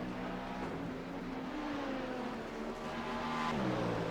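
GT3-spec race cars lapping Sebring in a racing video game, a continuous engine whine that rises and falls as the car weaves through traffic, loud and steady without talk.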